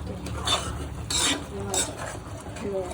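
Spoon stirring and scraping masala as it roasts in oil in a pan for a ghol fish curry, with soft sizzling under intermittent metallic scrapes, close and moderately loud.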